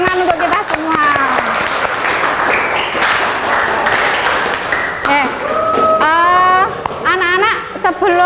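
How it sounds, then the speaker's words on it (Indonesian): Students in a classroom clap together in a burst of applause, loud and close, while children's voices chatter and call out over and after the clapping. "Oke ya, tepuk tangan untuk kita semua."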